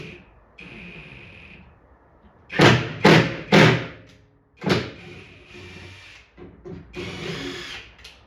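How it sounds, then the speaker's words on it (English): Power drill working on an arcade cabinet during restoration: a steady whine, then several loud bursts of drilling with thumps between them, close and alone. "If I can possibly draw that one down with the drill."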